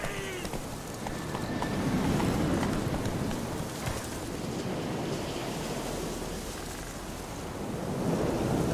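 Roach the horse gallops across open ground in a video game. Steady, rapid hoofbeats run the whole way through under a constant rush of wind, swelling slightly near the end.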